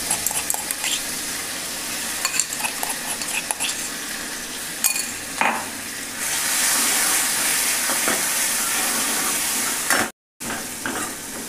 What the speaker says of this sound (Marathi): तर मिरची छान अशी तळून घ्यायची म्हणजे कढीला खूप छान स्वाद येतो